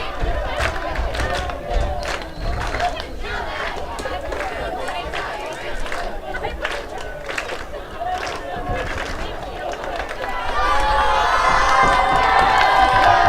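A high school football crowd and cheer team roar, shout and cheer continuously at a J-Hawks versus Pirates game, growing louder near the end, with an announcer talking over it.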